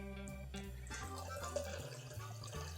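Warm water pouring for a double serving of grog makes a faint, steady trickle and splash that continues throughout, with a few soft drips.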